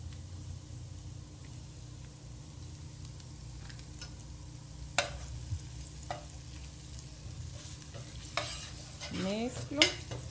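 Butter and garlic sizzle steadily in a frying pan, a soft continuous crackle with occasional scrapes and clicks of a utensil.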